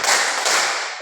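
A classroom of students clapping together in a dense, continuous burst of overlapping claps, loud and close, with no clear separation between beats.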